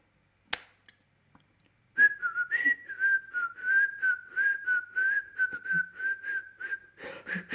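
Tuneful whistling of a famous, widely known song: a single sustained melodic line of many short connected notes, fairly close and steady for several seconds, following a brief sharp knock and near silence.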